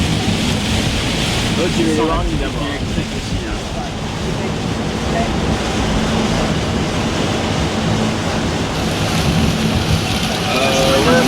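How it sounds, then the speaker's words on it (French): Heavy rain from a thunderstorm near the Gulf of Mexico in Texas, a dense steady roar throughout with low rumbling underneath, while people talk faintly in the background. "c'était au tour du tonnerre et de l'orage de nous accueillir."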